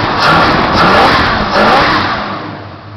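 A 1967 Dodge Dart drag car with a 383 stroker V8 revs loudly and up close, the engine note swelling and easing in repeated surges and then settling toward a steady rumble.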